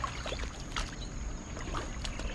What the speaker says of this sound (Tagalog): Ang ganda po ng agos na ito.